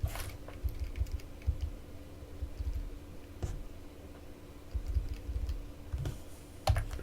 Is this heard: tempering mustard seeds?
no